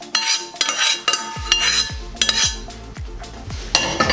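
A metal spoon stirs seasoned steamed cabbage and mixed vegetables in a pot off the heat, producing a series of sharp clinks and scraping knocks against the metal at an irregular, fairly quick rhythm.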